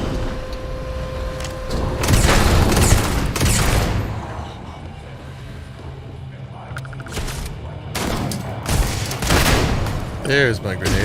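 Heavy grenade blasts go off in Starfield, with two clusters of loud booming bursts separated by quieter stretches of combat noise.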